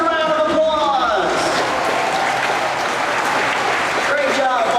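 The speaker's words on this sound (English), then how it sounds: "Folks, give yourselves a round of applause" A live audience at a SeaWorld sea lion, otter and orca show claps in sustained, dense applause that swells loudly and holds steady throughout, with a presenter's voice heard faintly over it at the start and end.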